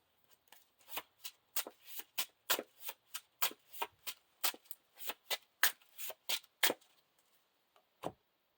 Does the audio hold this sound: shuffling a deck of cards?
yes